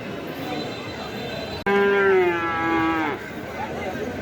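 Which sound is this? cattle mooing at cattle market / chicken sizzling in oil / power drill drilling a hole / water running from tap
cattle mooing at cattle market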